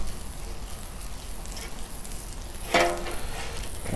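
Butter sizzling on a 36-inch Blackstone griddle, a steady close hiss of frying with one brief scrape of a utensil partway through, no talk.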